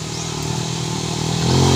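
Motorcycle engine revving up close, a buzzy mid-pitched drone that climbs in pitch and grows louder toward the end.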